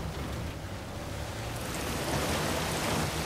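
Water pours down like a shower in the Uncharted 4 video game, a steady broadband hiss and splash that holds even and loud throughout and swells slightly toward the end, with no voices.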